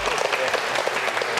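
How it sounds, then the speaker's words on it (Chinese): A studio audience on a television variety show breaks into steady, dense applause, a close continuous wash of clapping with no break. "掌声谢谢他"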